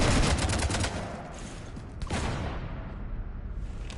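Rapid gunfire pours onto a starship in Mass Effect, a dense burst of shots up front that eases off, then a second volley and scattered trailing clatter.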